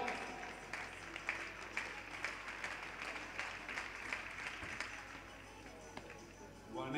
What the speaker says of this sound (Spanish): Palmas para o atleta da Universidade de Santiago.